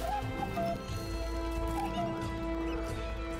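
In the Minecraft Legends video game, a horse whinnies with short wavering neighs over a dense, constant game soundscape with low rumble and hoof clatter, mid-distance rather than close.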